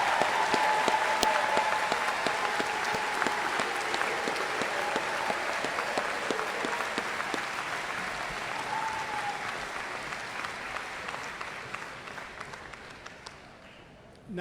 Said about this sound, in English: Please join me in a round of applause for all the graduates of the College of Liberal Arts and Sciences.